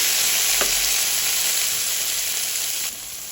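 Onion and tomatoes sizzle steadily in a pan while being sautéed for fried sardines: a close, continuous hiss of frying with faint stirring.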